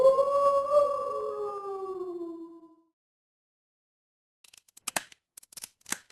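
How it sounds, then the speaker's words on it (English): Wolf howl sound effect in an audiobook battle scene, a long, loud, wavering howl with two falling tones that fades out, followed by silence and then sharp, scraping clicks like claws and a spear shaft, with no narration. "the discordant sound of the wolf's howl, claws, and spear shaft"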